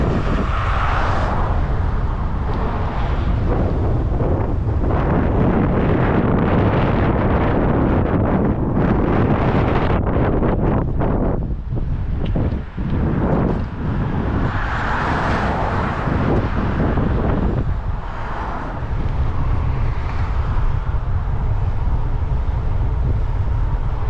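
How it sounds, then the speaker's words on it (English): Loud, constant wind roars and buffets across the microphone while a bicycle is ridden into a headwind over rolling hills. The roar surges and dips without a break. "riding into the wind kind of sucks"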